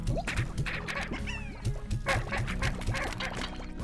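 Chickens in the video game Slime Rancher cluck and squawk in a busy, overlapping stream of short calls, steady and fairly close for a few seconds, with no talking.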